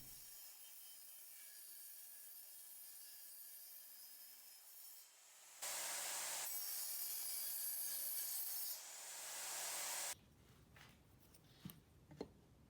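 Hand tools trimming the edges of pre-cut wood pieces for a nesting apple box, giving steady rasping and scraping strokes close up, loudest in the middle stretch, then a few separate scrapes and knocks near the end.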